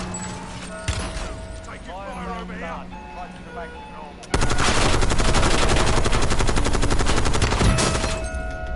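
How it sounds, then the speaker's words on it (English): Rapid automatic gunfire in the video game Warzone Black Ops 6 battle royale, a sustained loud burst of rattling shots that starts abruptly midway, after a quieter stretch with someone talking and squeaky effects. "People shooting me in front."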